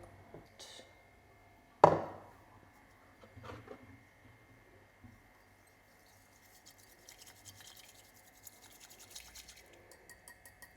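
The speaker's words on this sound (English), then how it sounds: "Now we put some warm water and then we start whisking." A bamboo whisk briskly beats matcha powder into warm water in a home kitchen, quick scratchy strokes that build toward the end after a sharp knock and scattered clatter.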